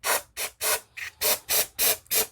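Brake cleaner sprayed from an aerosol can onto the rear differential cover bolts of a 1999 Ford F250 V10 Super Duty with a Dana axle, in seven loud close hissing bursts with short gaps between them.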